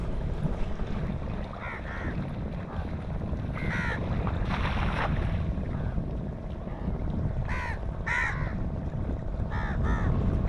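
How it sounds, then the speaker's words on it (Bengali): Crows caw repeatedly in short bursts over a busy seaside fish market at Talsari, with constant wind and water noise and a low crowd murmur filling the background. "কাক দেখুন কত কাক।"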